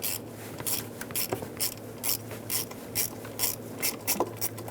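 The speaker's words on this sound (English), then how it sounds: "Then you'll have two 3mm Allen bolts that you have to remove. Unthread them." A hand ratchet clicks in quick repeated bursts while unthreading 3mm Allen bolts on the intake of a 6.4L V8 Ram 2500, close and crisp, with no talking.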